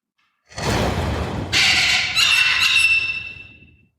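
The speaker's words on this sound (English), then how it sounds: "It's Thunderbird!" A loud, piercing screech from a giant mythical thunderbird rises in several harsh, layered bursts, sustained for a few seconds before fading out.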